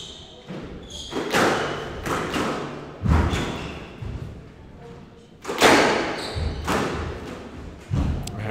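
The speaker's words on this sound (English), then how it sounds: "great boast off the wall, but around the back from Jack Condor" Squash ball strikes ring out during a Premier League Division 1 match, a series of sharp thuds against the wall and racket spaced a second or two apart, loud and close with crowd or court noise between them.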